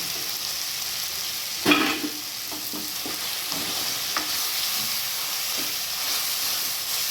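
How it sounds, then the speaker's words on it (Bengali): Mashed potatoes are stirred into chicken frying in a pan, with a sharp utensil knock early on, then continuous sizzling and soft scraping strokes, up close with no talking. "ম্যাশ করা আলুগুলো এইভাবে মাংসের সাথে মিশিয়ে দিচ্ছি"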